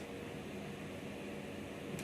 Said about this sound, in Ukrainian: О, пішли вентилятори на обдув.